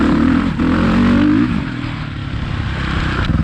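A Suzuki RMZ450 dirt bike's engine revs up loudly close by and then drops back to a rough, steady idle, with no voices over it.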